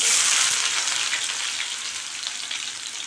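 Whole spices (cinnamon, bay leaf, cloves, cardamom) crackle and sizzle steadily in hot oil, a bright, even hiss that fades slightly over a few seconds.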